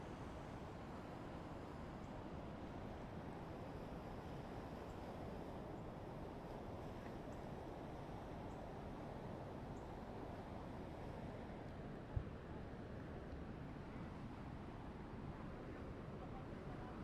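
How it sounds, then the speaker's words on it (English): Floodwater on the San Gabriel River in Texas after heavy rainfall roars as a steady, dense broadband rush, continuous and unbroken, with wind buffeting the microphone and one brief knock near the end. "I wanted to kind of give you a visual of how strong this water is right now at this moment."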